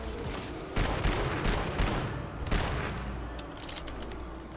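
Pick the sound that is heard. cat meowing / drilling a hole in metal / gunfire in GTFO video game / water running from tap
gunfire in GTFO video game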